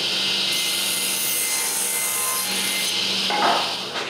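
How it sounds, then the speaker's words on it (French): A saw rasps steadily through a cedar board, trimming a thin strip off its width for a patio table. The cutting is close, continuous and loud. "Mais chaque planche est un peu trop large. J'enlève donc un petit bout sur chaque."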